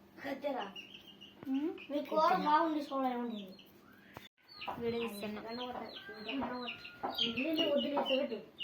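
Chickens cluck close by, mixed with people talking nearby for most of the stretch.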